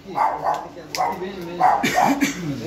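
A pet dog barks and yips excitedly several times at close range in a home entryway, its barks mixed with people talking over it.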